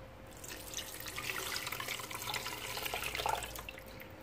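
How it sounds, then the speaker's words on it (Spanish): Water poured into a blender jar holding roasted tomatoes, onion, garlic and dried oregano for a chicken and vegetable stew, a steady close splashing trickle running the whole time with no talk. "y le ponemos también agua."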